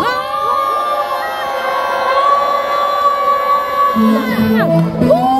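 A big festival crowd at a citizens' sports festival in Andong roars and cheers together, a dense, loud, sustained swell of voices with whoops rising near the end.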